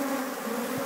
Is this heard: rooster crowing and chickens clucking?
no